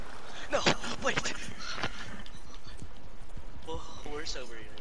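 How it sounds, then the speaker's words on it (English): Horse hooves clip-clopping in an open-world video game, a quick, steady rhythm of close hoof falls; a player speaks over it and a brief whinny-like call appears near the end. "Oh, horse over here."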